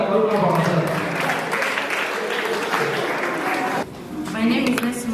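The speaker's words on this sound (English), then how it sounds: "Can we clap ourselves?" Audience members clap at an electoral integrity conference close-out event, a sustained dense patter of hands with voices mixed in, dipping briefly near the end before picking up again.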